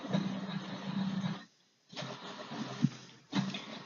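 A printer whirs and hums in steady mechanical runs, briefly pausing, then resuming with a clunk before starting again.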